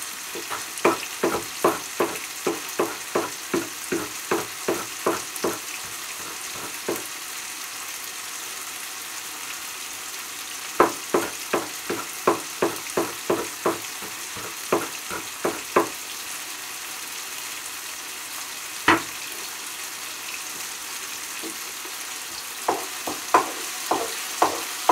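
Vegetables stir-fry in a pan with a steady sizzle, broken by a quick run of sharp scraping and clacking strokes, then a pause and another run of strokes, with a few scattered knocks near the end.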